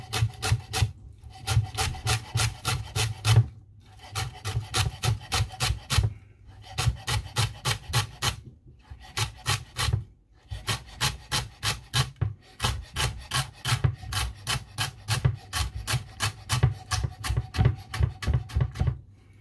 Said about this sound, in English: So chop the garlic as finely as possible.